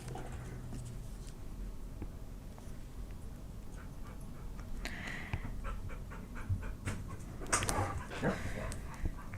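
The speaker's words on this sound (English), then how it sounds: "that is my dogs outside. They're panting" Dogs pant outside in quick, rhythmic, breathy huffs, faint and somewhat distant, with a few brief whimpery sounds mixed in.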